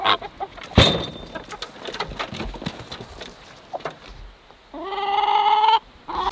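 Hens are let out of their shed on a small home farm: a sharp clatter as the door opens, scattered squawks and clucks, then a long, loud drawn-out animal call close by.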